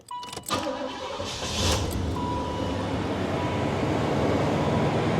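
A 1989 Chevrolet Caprice Brougham with a 305 V8 starting: a brief starter crank, then the engine catches and settles into a loud, steady idle rumble close by.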